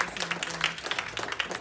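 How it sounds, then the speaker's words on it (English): A small audience at a public speaking class claps after a speech, giving a brief burst of scattered, fairly close hand claps with a faint voice underneath. "Give another big round of applause."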